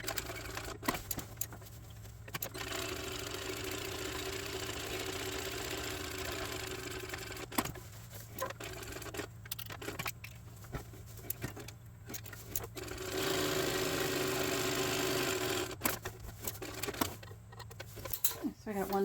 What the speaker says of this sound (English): So I am going to just start stitching this down.